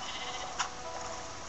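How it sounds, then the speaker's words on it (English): A sheep in the Minecraft Dungeons video game gives a single short bleat, brief and fairly faint, over steady game background sound. "Where's that sheep I'm gonna kill?"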